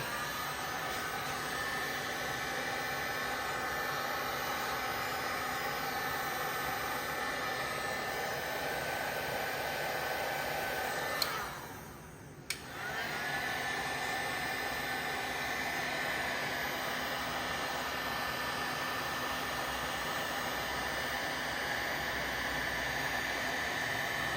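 A heat gun blows a steady, loud rushing hiss onto vinyl wrap on a Tesla rear door, running continuously apart from a brief cut-off near the middle before resuming.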